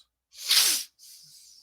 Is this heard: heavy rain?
no